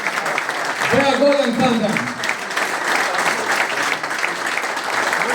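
Audience applause at a reunion gathering of former FK Teteks footballers, a steady crowd clapping spread across the clip with a voice speaking over it near the start.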